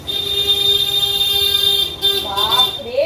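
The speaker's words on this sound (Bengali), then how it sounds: "এত জোরে জোরে হর্ন দেয় না, মানে কি বলবো, রাস্তার পাশে থাকার এই হচ্ছে ঝামেলা, কানে লাগে আমার হর্নের আওয়াজ গুলো।" Vehicle horns honk on a roadside close by, a long, loud, steady blare followed by a shorter warbling toot, with traffic rumbling underneath.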